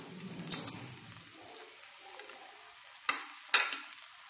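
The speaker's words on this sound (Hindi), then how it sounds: "इसमें मैं अभी हाफ राइस डालूँगी, इसको फिर मिक्स करूँगी।" Chicken fried rice being stirred in a pan, a soft sizzling scrape with a few sharp clinks of the spoon against the pan near the end.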